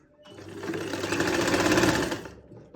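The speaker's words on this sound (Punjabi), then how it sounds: "ਹੁਣ ਆਪਾਂ ਇੱਥੋਂ ਫੜ ਕੇ ਕੱਪੜੇ ਨੂੰ ਇੱਥੇ ਸਲਾਈ ਲਗਾ ਲੈਣੀ ਹੈ" A sewing machine stitches fabric beside buckram while a lining kameez neckline is being sewn, one continuous run of rapid mechanical clatter that rises, holds and stops, close up and without talk.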